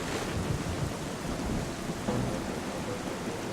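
Thunderstorm ambience from The Legend of Zelda: Twilight Princess HD, a steady wash of heavy rain with low rolling thunder rumbling beneath it and a swell near the end, with no voices.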